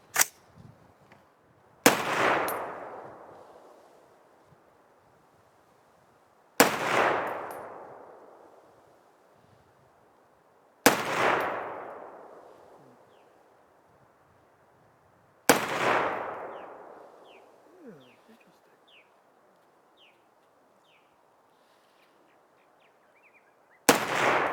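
Five sharp rifle reports from a Ruger SFAR firing Igman ammunition, each a loud crack with a long reverberant decay, spaced a few seconds apart, with a sixth shot beginning at the very end.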